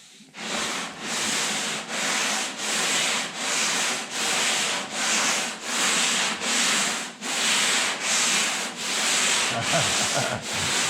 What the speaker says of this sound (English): I think I'm gonna throw some more guide coat on it and work with a little bit of 80 grit now.